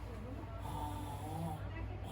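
A voice imitates a person's snoring with a low, rasping, steady drone that lasts about two seconds and is heard close up.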